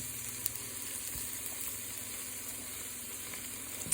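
Vegetables sautéing in a pan give off a faint, steady hiss of sizzling, with a couple of soft knocks near the start and end and no talking.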